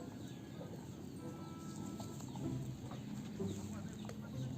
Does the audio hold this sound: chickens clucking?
yes